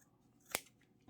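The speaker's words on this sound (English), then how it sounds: "So with a pair of scissors," A pair of scissors gives a single sharp, close snip while cutting off the end of a sock for a Christmas gonk craft, faint surroundings before and after, and a small second click at the end.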